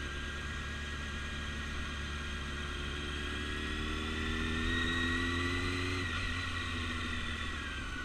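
A motorcycle rides around an open parking-lot training course with a steady mid-pitched engine drone; revs climb, then drop sharply at the shift into second gear and settle again.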